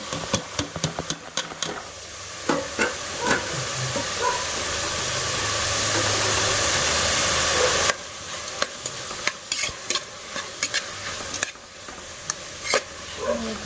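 Beans and carrots fry in hot oil for veg pulav, a continuous loud sizzle with repeated clacks and scrapes of stirring, swelling into a dense steady hiss midway before the stirring clatter returns.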